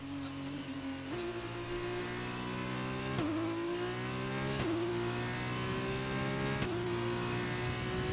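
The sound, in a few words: race car engine driving lap in F1 2020 video game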